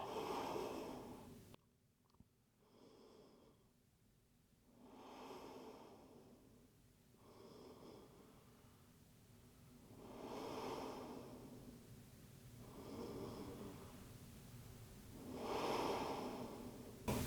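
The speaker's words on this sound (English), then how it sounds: "Give yourself 2 more breaths here." Slow, deep breaths during an at-home slow yoga session, each soft inhale and exhale rising and fading in a long, even rhythm, close and quiet with no talking.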